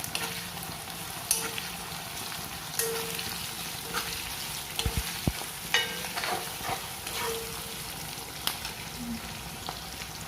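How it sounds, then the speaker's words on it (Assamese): Chicken curry frying in butter in a pan, stirred with a spoon: steady close sizzling with intermittent scraping and clinking of the utensil against the pan. "এইটো এতিয়া মই লৰাই দিম।"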